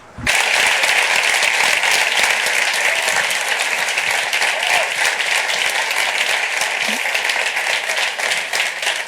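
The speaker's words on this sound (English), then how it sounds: "let's give a big round of applause" Loud, sustained applause from a large crowd at an award ceremony, steady dense clapping that continues throughout without pause.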